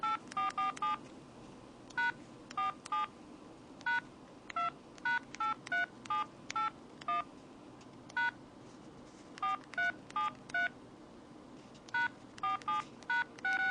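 Keypad tones beep from a Samsung Trance phone as text is entered, short dual-tone bleeps in irregular clusters, some rapid runs and some single presses, clear and close over a quiet hiss.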